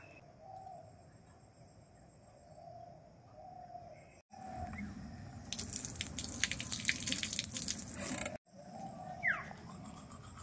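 A tap runs outdoors for a few seconds, a steady splashing rush between quieter stretches, while birds chirp and a dove coos nearby; no one speaks.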